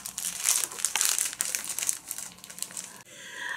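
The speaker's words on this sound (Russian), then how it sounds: "и вот такой вот пакетик, в котором достаточно много порошка" A plastic packet of garden fertilizer powder crinkles loudly and close up in quick bursts for about three seconds, then the crinkling stops abruptly.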